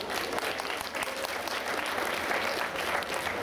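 Audience applause welcomes a presenter from the AOK health insurer onto the stage at the Ufra 2010 trade fair's Nordic Walking event: steady, dense clapping from a nearby crowd that holds evenly throughout.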